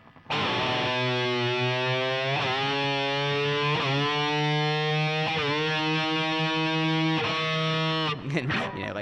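Distorted electric guitar, with its whammy bar rising and dipping, imitates a race car accelerating and changing gears: several rising pitch sweeps, each cut off and restarted, loud and sustained, ending with a brief voice.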